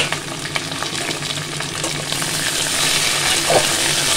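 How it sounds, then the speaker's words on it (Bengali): Chunks of green banana and potato fry in oil in a pan, a continuous close sizzle with light crackles and stirring scrapes, growing slightly louder toward the end. "ভালো করে ভাজা ভাজা করে নেব।"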